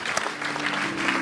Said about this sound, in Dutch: Mag ik een groot applaus voor Kees-Jan Pen.